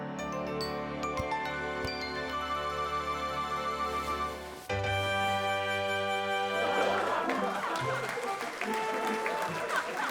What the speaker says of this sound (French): La foule s'est déchaînée pour les tours de Caillou.